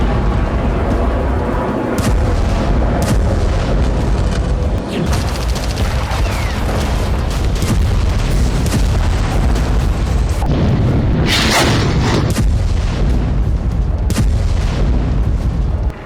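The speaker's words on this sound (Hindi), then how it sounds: "गाजा पर सबसे बड़ा हमला। गाजा में सबसे बड़ा बारूदी विनाश।" Bombardment explosions in Gaza boom loud and continuous, heavy blasts and rumbling crashes overlapping for about sixteen seconds, with sharper bursts standing out near the middle and no voices heard.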